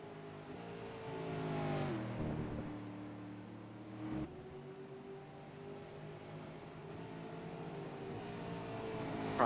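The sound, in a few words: V8 Supercars race car engines at Brands Hatch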